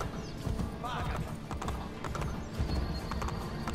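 Horse hooves clip-clop in a quick, steady rhythm with occasional whinnies in Assassin's Creed: The Ezio Collection gameplay, a game soundscape layered with someone talking in German in the background.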